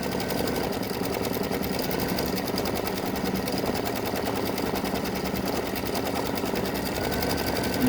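An embroidery machine stitches the underlay of a filled Easter gnome's hat in blue thread, a fast, steady mechanical chatter running continuously and close throughout, with no talking.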